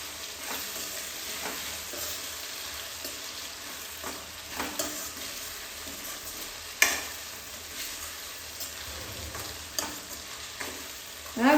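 Garlic, about a spoonful, frying in oil and being stirred in a pan while cooking Kathiyawadi-style eggplant bharta, giving a steady close sizzle with scattered scraping clicks of the spoon and a few sharper knocks, no talking.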